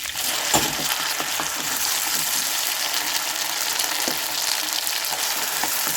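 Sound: ground masala paste frying in pan

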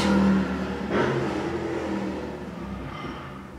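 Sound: noisy motorcycles passing

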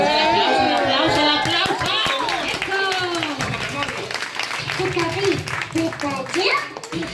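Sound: applause, clapping

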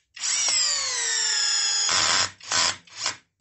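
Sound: compact cordless drill driver running at high speed

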